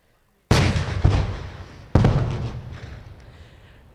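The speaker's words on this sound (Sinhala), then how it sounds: "මේ අභිමානයෙන් යුතුව යුද හමුදාව එක් කරන්නේ ඒ අවසන් වෙඩිමුරයයි" Army artillery fires a final gun salvo: three loud booming blasts, the first two close together and the third a second later, each followed by a long rolling echo that fades out.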